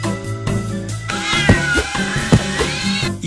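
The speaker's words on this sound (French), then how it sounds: "Les chats de gouttière ont repris le contrôle des rues." Alley cats meowing and caterwauling up close: loud, drawn-out wailing yowls that rise and bend in pitch, overlapping with a few sharper accents, no talking.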